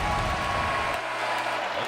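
College basketball arena crowd at Tennessee versus Vanderbilt, a broad, steady roar of cheering and applause reacting to a player, fairly loud and continuous, with a commentator's voice faintly beneath.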